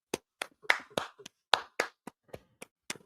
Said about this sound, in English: round of applause to that young lady